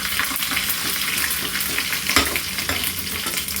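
Cumin, fenugreek, asafoetida and curry leaves sizzle and crackle steadily in hot oil, a dense continuous frying hiss with small pops, tempering for homemade brinjal kosthu.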